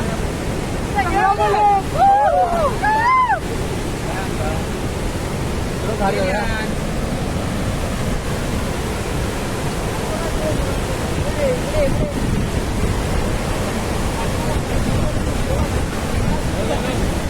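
Water pours over the full, man-made Khorninko dam in Lanja, Ratnagiri, making a steady broadband roar that holds for the whole stretch, with a few brief tonal calls or voices rising above it near the start.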